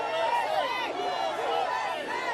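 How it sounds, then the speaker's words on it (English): Thousands gathered at the South Carolina state capitol cheer and chant with rising and falling shouts as the Confederate battle flag is lowered, close and sustained, with voices overlapping in a dense roar. "Crowds cheered and chanted as the Confederate battle flag was lowered at the South Carolina state"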